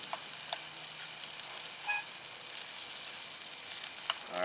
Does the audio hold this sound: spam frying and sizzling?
yes